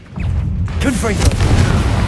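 Booming fire-spell blast from the Hogwarts Legacy video game, a loud low rumble sustained across the clip with brief sharp crackles, mixed with a character's voice shouting over the action.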